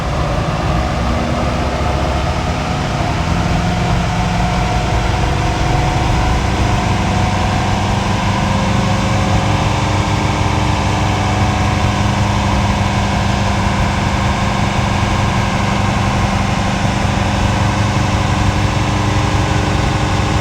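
A Land Rover Defender 2.2 diesel engine runs under load on a dyno in 5th gear at about 3000 rpm, a steady, loud, unbroken drone that holds level throughout with no talking.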